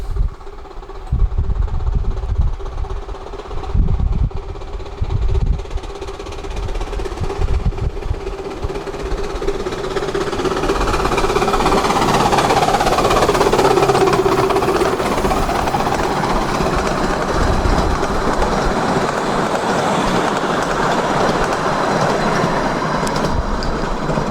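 A small steam locomotive on the Ravenglass and Eskdale Railway labors steadily up an incline, its engine noise building and holding loud with rhythmic rail clatter and a faint squeal, close by and continuous.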